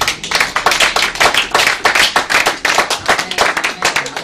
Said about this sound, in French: Est-ce que tu peux acclamer très fort pour le Seigneur?